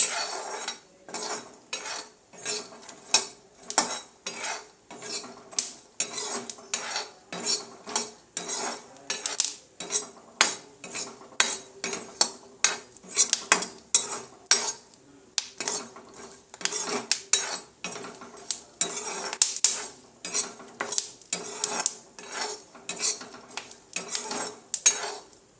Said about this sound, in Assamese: এয়া শুনিছেই, আমাৰ বাদামখিনি অকণমান ফুটিবলৈ লৈছেই